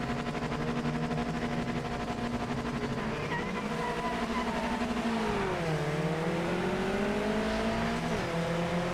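A race car engine in Project Motor Racing drones at steady high revs in first gear, then the pitch dips and climbs again as it pulls away from a standing start, continuous and close.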